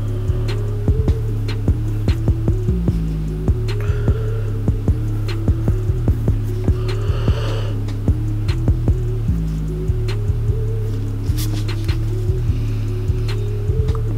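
Electric tattoo machine running, a loud steady motorized buzz with a regular ticking pulse, pausing briefly twice, close to the microphone with no talk.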